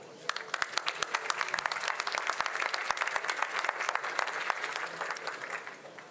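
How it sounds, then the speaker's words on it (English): An interview audience applauds steadily, with dense, even clapping from a modest crowd that holds at moderate volume for several seconds before tapering slightly. "I think he deserves an applause."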